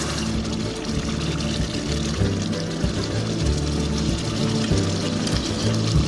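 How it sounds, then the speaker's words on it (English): Hot sugar syrup poured into a pan of hot roux, giving a steady, close, sizzling pour with bubbling and gurgling, continuous and fairly loud with no voices. "I'm now ready to pour my sugar syrup into the roux"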